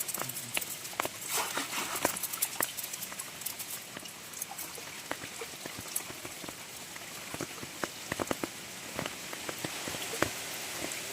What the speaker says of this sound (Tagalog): Ay, maulan.